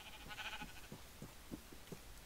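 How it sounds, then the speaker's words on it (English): A Minecraft sheep gives a few faint, short bleats in quick succession over a low background hum. "Sheep."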